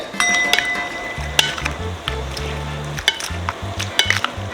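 Tapioca pearls are stir-fried in a hot pan for a spicy Thai pad cha, making a loud, close sizzle with brisk stirring scrapes and clinks over background music.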